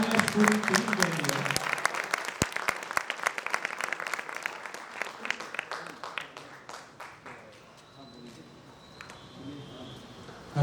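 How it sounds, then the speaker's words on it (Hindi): A theatre audience claps for the play's director and team, loud crowded applause that gradually thins and fades toward the end, leaving faint scattered claps and room noise. "एक बार जोरदार तालियां इस पूरी टीम के लिए।"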